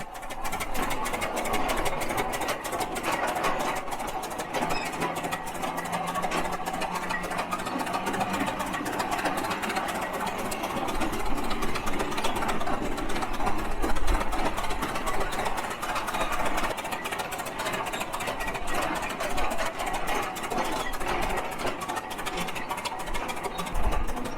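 An old tractor engine needing a tune-up idles with a rapid, even mechanical chatter, running continuously at a moderate level with no voices.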